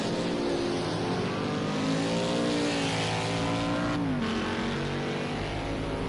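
A race car in a racing game during qualifying, its engine droning loud and steady, pitch rising and falling with gear changes, no one talking over it.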